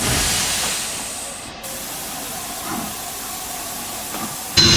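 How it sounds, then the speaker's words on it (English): A steam train brakes to a stop. Steady hissing steam and a soft low rumble fade slightly, then a sharp burst of hiss sounds at the very end, fairly quiet throughout. "Using the brakes skillfully, the drivers stopped the train."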